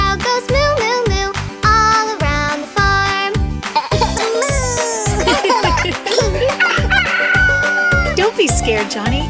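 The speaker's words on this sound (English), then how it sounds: "It's just a rooster." A rooster crows over a bouncy cartoon children's farm song with steady drum beats and sung vocals, the crow blending into the loud music.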